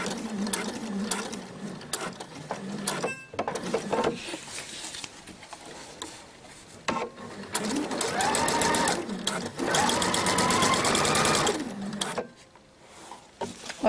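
A sewing machine stitches across a belt bag in bursts, a close, loud rapid whirring rattle that stops and starts, with short pauses between runs and a brief faint voice at one point.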